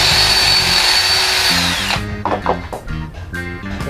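A power drill reams out a hole for a homemade sand spike, whirring loudly at steady speed for about two seconds, then stopping and restarting in short bursts and pulses of whine and grinding, up close.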